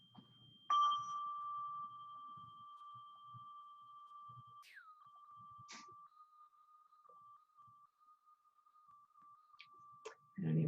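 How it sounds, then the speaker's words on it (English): A tiny hand bell is rung once, a clear sustained ring that slowly fades and lingers for several seconds in a quiet room, with faint soft rustles around it. "So let's do this tiny little bell."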